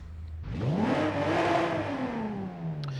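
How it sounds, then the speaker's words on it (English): A 1962 Ferrari 250 GT engine in Forza Horizon 5 cranks and fires, then swells into a loud rising rev that peaks and slowly falls back to a steady idle, heard alone and up close. "So let's start her up, and yeah, how she sounds."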